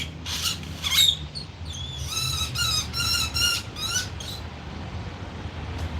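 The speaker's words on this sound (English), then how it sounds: "This bird is very irritated." A bird squawks in short, harsh bursts at dusk, some calls rising and falling in quick repeated chirps, fairly close but not loud, over a low background rumble with no talking.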